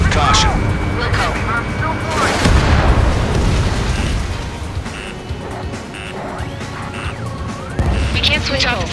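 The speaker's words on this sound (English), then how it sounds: "How many got caught in that explosion?" Heavy booming explosions from the Ace Combat 7 combat flight game, a loud rumbling crash building around the middle and another burst near the end, with engine and battle noise filling the background.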